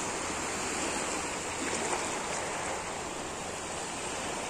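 Sea waves at high tide wash in a constant broadband hiss of surf and moving water, faint and steady with no voices.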